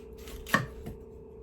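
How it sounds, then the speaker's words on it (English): A kitchen knife chops through a watermelon in one sharp, close thunk, followed by a faint softer second cut, alone with no talking. "we're gonna cut one end straight down so you have pretty much a base to set up. So we're gonna cut it"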